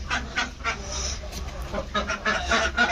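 Ducks on a duck farm in Bangladesh, heard close up as a continuous noisy stretch of overlapping quacks and calls from the flock, with a steady low hum underneath.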